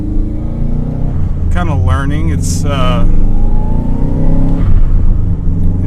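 A 1994 Subaru Legacy Turbo converted to a 5-speed drives steadily on a test drive, its engine drone constant and close, while a person talks over it.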